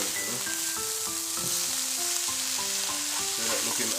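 Chicken fried rice vegetables frying in a hot pan give a steady, close sizzling hiss while being stirred, continuous under quiet background music with no talk.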